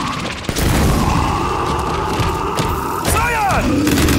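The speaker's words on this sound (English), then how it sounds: "That bomb's gonna blow soon." A bomb blast in the Gears 5 video game during an Escape hive challenge, a deep booming explosion with rumbling debris amid continuous gunfire and game effects, loud and dense.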